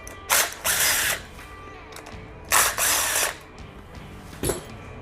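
Power tool spinning off bolts in a garage, three short bursts of loud whirring and ratcheting, two longer and a final brief one, heard up close with quiet gaps between.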